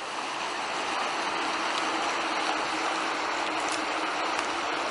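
River water from the Umpqua River at Myrtletown, Oregon, pouring into a 3-foot AquaDam around a concrete water intake, a steady broadband rushing and splashing flow, continuous and close, with no talking.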